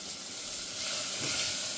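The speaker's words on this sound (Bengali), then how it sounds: "কুকারে এটা একটু নাড়াচাড়া করে ভেজে দিই" Ingredients frying in a pressure cooker while being stirred, giving a close, continuous bright sizzle and hiss that swells slightly toward the end.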